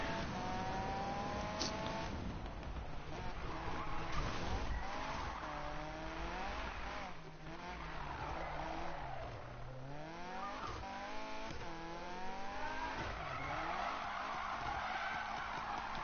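A car drifting in circles in a PS4 racing game, tires squealing in long wavering, swooping tones over a constant engine roar, loud and continuous.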